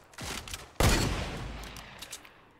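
A couple of sharp gunshots in Fortnite followed by a rolling burst of fire, loud and close, with a decaying echo.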